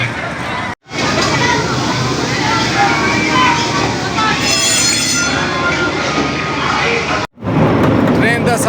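A miniature park train carries riders through Fatima Jinnah Park, a loud steady rumble of rolling wheels with squealing tones, broken by two brief dropouts, under a busy mix of voices.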